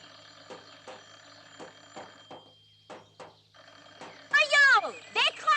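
A telephone rings in a quiet holiday house, with repeated bursts of a warbling bell that grow louder and closer near the end, while people talk between the rings.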